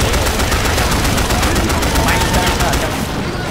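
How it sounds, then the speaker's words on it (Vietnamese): Pistol fire in the zombie co-op shooter Left 4 Dead 2 forms a loud, continuous barrage of rapid cracks that overlap into a dense wall of shots throughout. "Rồi lấy súng lục ra xả."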